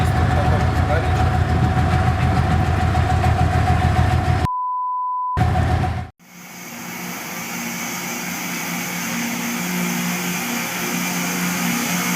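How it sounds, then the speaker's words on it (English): A rail grinder train works along the tracks with a loud, continuous grinding roar and heavy low rumble, broken by a sharp beep tone and an abrupt cut before the harsh grinding noise resumes and steadies. "This is a rail grinder,"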